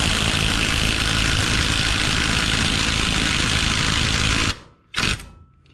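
An AOBEN cordless 1/2 inch impact wrench on high power hammers continuously on a fastener, loud and close, for about four and a half seconds, then a brief pause and one more short burst.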